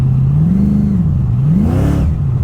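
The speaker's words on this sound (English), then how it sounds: "And what RPM am I revving it to?" A supercharged car engine revs steadily to about 4,000 RPM, its pitch rising and falling as the throttle is worked, loud and close with a whirring undertone, at a car show.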